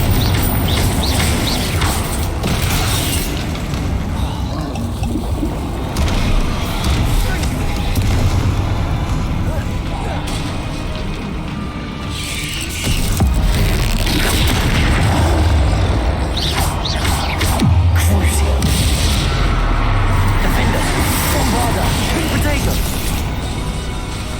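In a Hogwarts Legacy duel, spell blasts go off back to back: loud booms and crackling bursts, dense and continuous, with a brief lull partway through.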